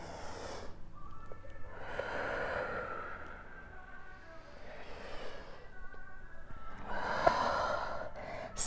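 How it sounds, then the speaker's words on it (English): Slow, deep breaths drawn in and let out during a grounding vinyasa yoga flow, soft and close, with a few audible exhales and snort-like nasal breaths in a quiet room. "2 more deep breaths here"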